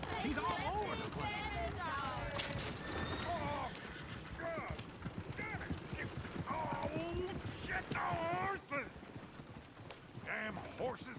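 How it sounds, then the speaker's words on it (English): Horses' hooves clatter in a steady galloping rhythm in the video game Red Dead Redemption 2, with occasional whinnies, while voices talk over the commotion. "Damn horses!"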